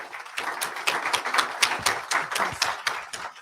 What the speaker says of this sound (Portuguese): Salva de palmas primeiro, né?